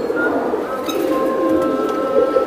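A giribaz racing pigeon coos close by in soft, rolling, repeated calls over a low background murmur.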